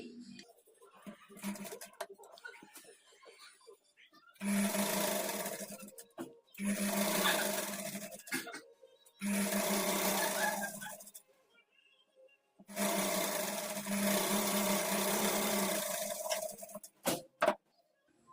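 A sewing machine double-folds and stitches the edge of kurti fabric, running in four loud bursts of a few seconds each with silent pauses between them, then two short clicks at the end.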